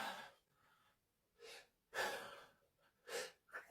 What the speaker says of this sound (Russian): Опять чихнула.